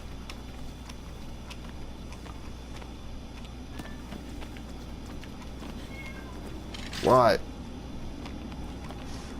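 A house cat gives one short, clear meow near the end over quiet room noise, with a person speaking briefly earlier.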